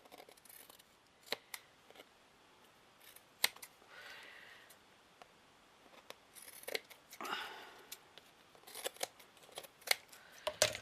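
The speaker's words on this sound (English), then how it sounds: "And again, just chop off." Scissors snip in scattered sharp cuts while trimming material for a vintage book cover craft, close and crisp against quiet handling rustles.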